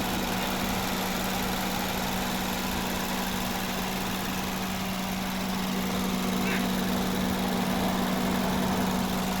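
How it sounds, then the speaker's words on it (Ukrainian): A 2021 Mazda CX-5 with a 2.0-litre petrol engine and automatic transmission idles steadily with a constant low hum and even mechanical drone, no revving, running alone throughout. "Ось робота двигуна."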